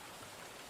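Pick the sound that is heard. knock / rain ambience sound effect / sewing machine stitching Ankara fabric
rain ambience sound effect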